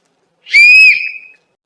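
One shrill whistle from a kitchen pressure cooker on a gas stove, cooking a batch, sounds close and loud, rising slightly and fading after about a second, with no talk.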